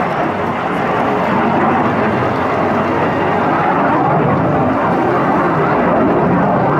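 A North American F-86 Sabre swept-wing jet fighter flying an airshow demonstration at McEntire Joint National Guard Base makes a sustained, loud jet roar that swells slightly as it continues, steady and alone without speech.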